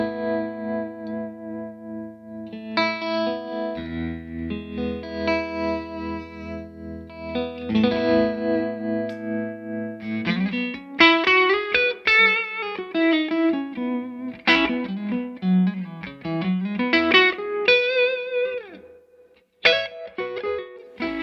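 Clean Stratocaster guitar through a Victory V40 Deluxe amp on voice 1, mid kick off and master set high: shimmery sustained chords, then bright single-note runs and bends, loud and close with no talking.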